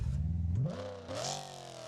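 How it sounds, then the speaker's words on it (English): A modular engine in a BeamNG Drive burnout car fires up and revs, the pitch climbing sharply then settling into a steady, loud idle-rev, close and alone. "we're going to go ahead and start this bad girl up and do some burnouts"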